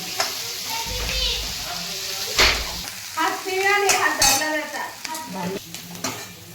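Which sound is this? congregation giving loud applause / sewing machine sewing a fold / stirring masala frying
stirring masala frying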